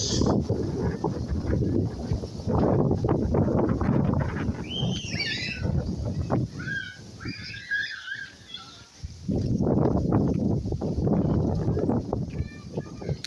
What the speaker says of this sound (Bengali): পাহাড়ে কি বাতাস!